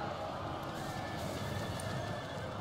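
Cavalry horses in a Total War battle: continuous dense din of neighing and galloping hooves, a loud massed clatter without distinct individual calls.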